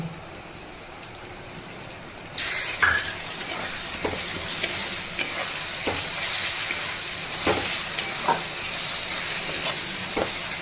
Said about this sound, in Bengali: রসুনের সঙ্গে লঙ্কা বাটাটা ভালো করে ভাজা ভাজা হয়ে গেছে